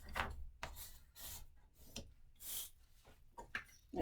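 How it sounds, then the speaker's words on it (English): Paper being folded and burnished while crafting a bee house folio: close, dry rubbing and scraping strokes in an irregular rhythm, with quiet gaps between passes. "fold and burnish"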